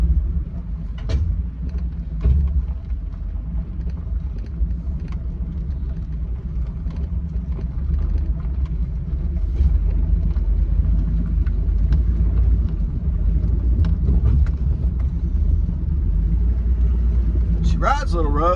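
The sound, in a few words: car driving onto the road after fuel line repair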